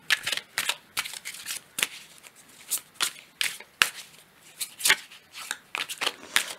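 A deck of cards is riffled and flicked in a string of quick, crisp bursts close up, with the cards snapping and sliding in an uneven rhythm and a few more deliberate single-card flips among them.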